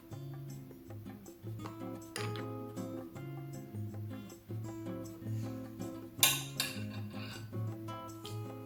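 A spoon stirs banana extract into a bowl of keto cereal, giving soft repeated clinks and taps against the dish, close and quiet with one sharper knock partway through.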